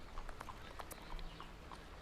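Horse hooves clip-clop steadily at a brisk pace during fast travel in the Sherlock Holmes vs Jack the Ripper video game, quiet and continuous with faint background rumble.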